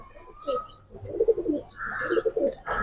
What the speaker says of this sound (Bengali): এটা একটা পুরান জাতের কবুতর